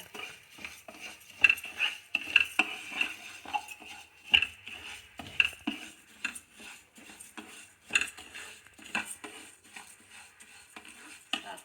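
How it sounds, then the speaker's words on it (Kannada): A spoon stirs and scrapes dry rice heating in a pan for kaara pongal, making irregular metallic clinks and taps that repeat throughout, close and clear, with no talking. "ಸ್ವಲ್ಪ ಅಕ್ಕಿ ಬಿಸಿ ಮಾಡ್ಕೊತೀನಿ"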